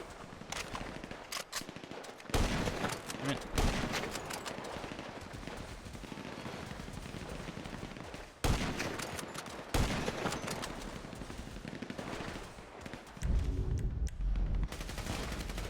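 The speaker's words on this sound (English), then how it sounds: "Shoot these bricks." Gunfire in Grand Theft Auto 5 shoots at bricks. Rapid bursts and volleys of shots crack repeatedly at close range, separated by brief pauses, with scattered impacts and some movement between the bursts.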